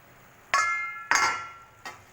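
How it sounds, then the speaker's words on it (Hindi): A metal lid lifted off a cooking pot of rajma on low heat, giving two sharp ringing clinks followed by a softer third tap, close and clear, with no talk. "और अब इसको मैं ढक्कन हटाती हूँ"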